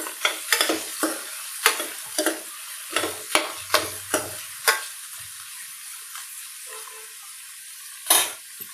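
Chopped onions and small pieces of green chilli being stirred in a hot pan, with a series of scraping stirs over a steady frying sizzle, close and loud with no talk.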